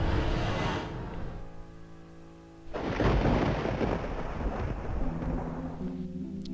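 Thunder of a coming storm in the video game Downfall rolls in as a deep, loud rumble under a low droning tone, swelling into a broad crash midway and continuing heavily to the end.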